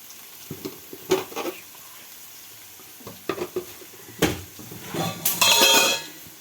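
Bitter gourd frying in a pan with onions and green chillies, heard as a few scattered stirring scrapes and light clinks, then a louder sizzling burst near the end, close by and otherwise fairly quiet.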